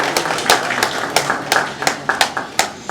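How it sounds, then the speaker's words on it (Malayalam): Audience clapping at a trailer launch ceremony for the 4K re-release of Devadoothan, a steady patter of hands with sharper bursts every half second, moderately loud and close. "ഓഡിയൻസ് ഒരു ഉഗ്ര കൈയടി കേൾക്കുകയാണെങ്കിൽ നമ്മുടെ ഈ ഒരു ഒഫീഷ്യൽ സെറമണി ഇവിടെ സ്റ്റാർട്ട് ചെയ്യാം"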